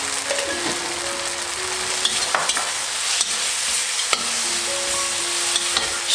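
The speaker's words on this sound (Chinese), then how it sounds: "大约翻炒几下" Vegetarian mee goreng noodles stir-fried in a pan give a steady sizzle with repeated scraping and clattering strokes, with no talking.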